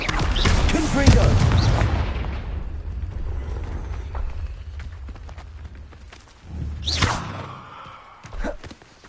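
A Confringo fire spell detonates in Hogwarts Legacy with a heavy, booming blast that rolls into a long rumbling decay, followed by a few smaller thuds and bursts a few seconds later.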